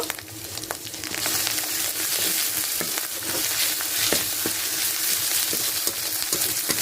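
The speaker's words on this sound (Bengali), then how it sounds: "দিয়ে আদা রসুনটা ভালো করে ভেজে নেব।" Onion with ginger and garlic paste frying in a pan, a steady loud sizzle with intermittent stirring clicks throughout, close up and with no voices.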